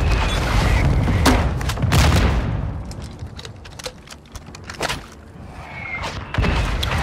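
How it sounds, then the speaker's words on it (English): A grenade explodes in the video game Call of Duty MW2, a heavy boom followed by scattered gunfire and rattling impacts in a combat scene. "Grenade out!"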